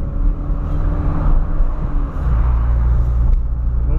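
A supercharged Ford Fiesta drives along with a low, steady engine rumble and road noise from inside the car, the pitch shifting slightly midway, loud and without talking.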